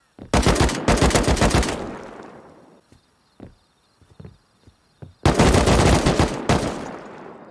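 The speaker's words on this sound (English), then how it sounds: "I just heard a fat raid going on around here." Gunfire from a base raid in the survival game Rust, two loud sustained machine-gun bursts framing a quieter stretch of scattered single shots and distant pops.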